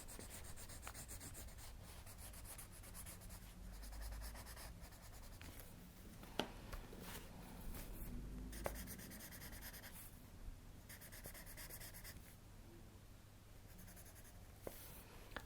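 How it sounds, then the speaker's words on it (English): Soft, continuous rubbing and scratching of pencil being blended and softened across drawing paper, close and quiet, with a few sharper ticks of contact and no talking. "I'm just blending, just softening off that pencil work."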